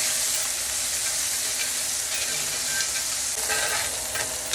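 Onions saute in a hot pan with a steady, close hiss and crackle, stirred now and then, with the sizzle staying even throughout and no voices.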